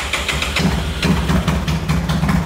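A Honda Today motorcycle engine idling with its small exhaust, a rapid steady putter close by and alone, its beat slightly uneven.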